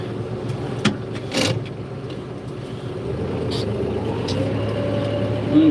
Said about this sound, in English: Got to watch the tractor drive itself.